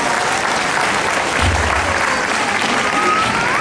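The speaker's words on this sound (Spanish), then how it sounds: "Denle un aplauso a los jóvenes de nuestra conferencia" A church congregation at a Hispanic camp-meeting Sabbath service claps for the young people, a steady, dense round of applause for the whole stretch, with a brief low thump partway through.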